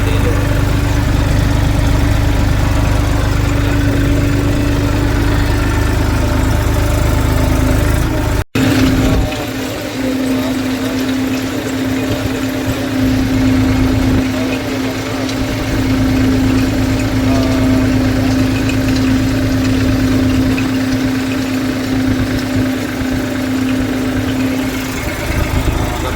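A tractor engine runs steadily while planting in a field, a loud close drone with a constant low hum and vibrating rumble; a brief dropout occurs early, then the engine continues unchanged.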